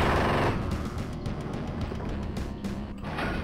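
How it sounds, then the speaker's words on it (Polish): Gunfire in the Wolfenstein 3D Spear Revisited game, rapid retro game shots and mechanical clatter in a dense continuous stream with a louder opening burst. "One shot, one kill."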